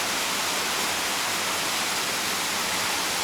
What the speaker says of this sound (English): And there's a nice waterfall coming there from above